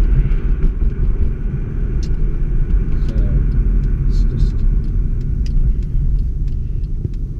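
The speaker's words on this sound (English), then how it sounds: "This is more of a proper test drive." A Mercedes-Benz with a 722.9 7G-Tronic automatic gearbox on a test drive, its steady low road rumble and engine drone continuous and close throughout, with faint rattles and clicks over the top.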